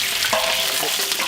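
Onions frying in pure coconut oil with curry leaves in a village kitchen pan, giving a steady close sizzle with faint stirring scrapes throughout.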